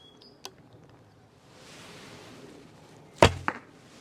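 Arrows loosed from a short Simsek Sipahi+ traditional bow (38 lbs at 28 inches): a sharp release thwack near 0.4 s, then a louder, dampened snap and quick follow-up impact around 3.2–3.5 s, with quiet room noise between.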